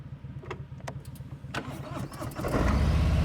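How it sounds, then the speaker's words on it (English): A motorcycle engine rumbles steadily up close, idling with a low throb before the revs rise toward the end. "I want you to listen to my engine."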